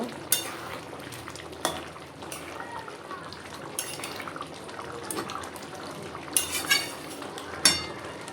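Katla fish-head muri ghonto with garam masala powder is stirred in a pan, giving a steady frying crackle with scattered scrapes and clinks of a spoon against the pan.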